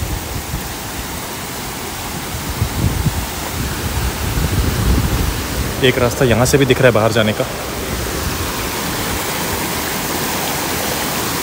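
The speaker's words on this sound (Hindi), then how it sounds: "ये है वाटरफॉल का ऊपर वाला हिस्सा" Steady roaring rush of water at the top of Bijakasha waterfall in Bastar, a constant broad wash filling the whole stretch as someone talks over it.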